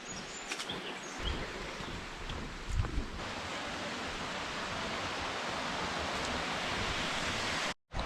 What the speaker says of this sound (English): it comes down to the bottom of the waterfall, the main waterfall